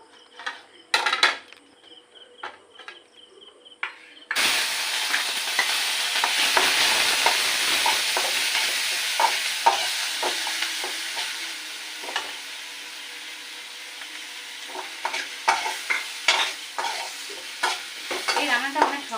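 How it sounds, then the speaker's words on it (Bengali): After a few quiet seconds of light clinks, onions drop into a hot kadai and burst into a loud sizzle that settles into steady frying, punctuated by repeated scraping stirs of a spatula. "এবারে আমি কড়াইতে দিচ্ছি পেঁয়াজগুলো"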